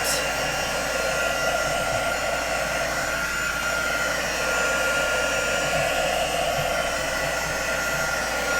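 A Celebrate It heat gun blows across watercolor paper, a loud, steady, close whooshing roar that runs unbroken from start to finish.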